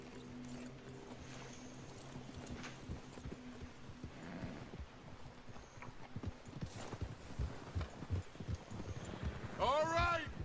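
Horse hooves clip-clopping in Red Dead Redemption 2, faint irregular steps with a whinny near the end, mixed under game speech and ambience.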